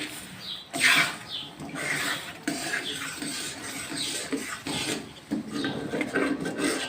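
Steady scraping and rasping of a spoon against a pan as thick semolina and gram flour halwa is stirred over low heat, continuous with small irregular strokes, close by.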